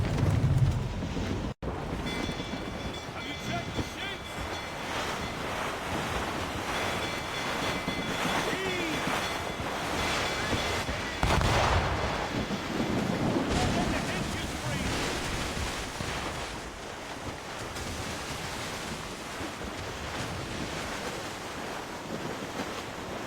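Stormy squall at sea in Assassin's Creed Rogue, steady roaring wind and surf washing around a sailing ship, a continuous dense rush with brief swells and a sharp crack early on.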